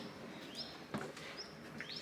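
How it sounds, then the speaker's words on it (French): Forest birds chirp in short, faint calls a few times over a steady outdoor background, with no voices. "On entend les oiseaux."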